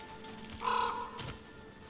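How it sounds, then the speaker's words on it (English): A crow caws in the video game Never Alone, with a single brief, faint caw over a quiet background. "like the crow sound."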